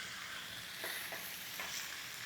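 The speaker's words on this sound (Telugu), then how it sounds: "సో ఇలా చికెన్ ముక్కలు వేసేసి ఈ చికెన్ని ఈ నూనెలో వేగనివ్వండి." Large bone-in chicken pieces fry in oil for a village-style tamarind-leaf chicken curry, with a quiet, continuous sizzle and a few faint stirring scrapes, no voices.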